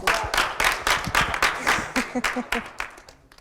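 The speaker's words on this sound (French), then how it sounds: "Applaudissez pour lui." A short burst of audience applause at a youth debate on polygamy in Benin: scattered hand claps, moderately loud, fading toward the end.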